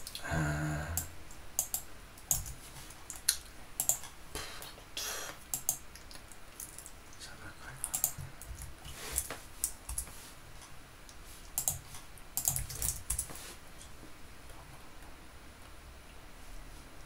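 Someone types on an Apple computer keyboard in scattered bursts of light, crisp key clicks, close and fairly quiet, with pauses between runs of keystrokes.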